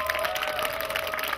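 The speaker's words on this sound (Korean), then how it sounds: "우리 스텝 여러분께 박수 한번 주십시오" Audience applause for concert staff at an autumn outdoor music concert in Bucheon, South Korea, a brief dense burst of many hands clapping close and loud.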